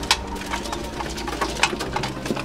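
Young pigeons cooing and fluttering as they peck at feed in a loft, soft repeated coos and wing flaps close by, with gentle irregular pecking and shuffling.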